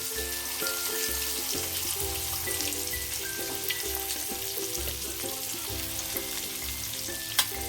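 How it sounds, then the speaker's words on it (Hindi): Eggs frying in a pan until browned for egg kadai masala: a steady close sizzle and crackle with occasional spatters and a low hum underneath, no talking. "सब अंडा इसी तरह हम फ्राई करके ले लेते हैं, लाल करके।"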